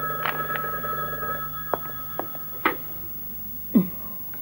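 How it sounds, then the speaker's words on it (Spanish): A telephone bell rings in short, clear bursts indoors, standing alone against a quiet room with faint background noise between the rings. "Le llaman por teléfono."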